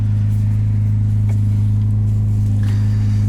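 2022 Ferrari 296 GTB hybrid driven in race mode, a steady deep engine hum heard from inside the cabin, constant and even with no revving swings, with faint knocks over it and no talking.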